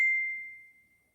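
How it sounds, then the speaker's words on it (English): A single clear notification chime rings once, a pure bright tone that fades slowly over about a second in an otherwise quiet room. "forgot to turn the notifications off."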